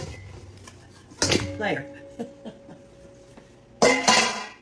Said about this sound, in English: I can tell that pan's not big enough, so let me get another one.